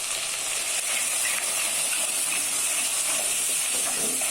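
Ground dried chili spice paste frying in a pan, a continuous bright sizzling hiss that stays steady and close throughout.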